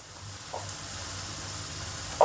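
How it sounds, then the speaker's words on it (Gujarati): Fresh fenugreek (methi) leaves with salt roasting in a pan give a steady, even sizzle throughout, with a couple of brief louder pops and scrapes close by. "મેથીને શેકાવા દેવાની"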